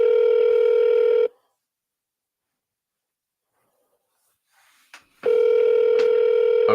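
A telephone line for a sales call gives a steady, loud dial tone that cuts off after about a second. Silence follows, then a couple of brief dialing clicks, and the tone returns.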